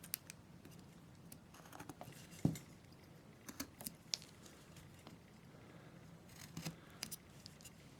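Carving knife paring into wood while shaping a face, faint close scrapes and small ticks scattered irregularly against quiet background.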